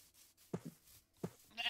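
Sheep in a Naruto video game bleat twice in quick succession, short clear calls, followed by a brief game sound effect.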